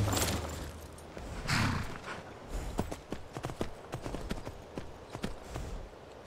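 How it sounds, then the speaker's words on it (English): Horse hooves clip-clop in Skyrim, a fantasy video game, with a steady run of sharp, fairly close hoofbeats over low background ambience. "Ah, now we have to steal the horse."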